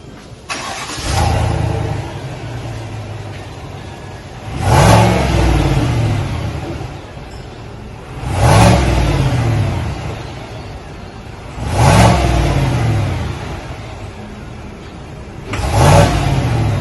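A 2021 Chevrolet Silverado pickup with its factory muffler and catalytic converters idles steadily and revs four times in regular intervals, each rev swelling and falling back, close and loud.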